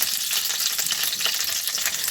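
Onions fry in a pan while a dish of Ukrainian potato dumplings is prepared, giving a steady close sizzle and crackle with no talking.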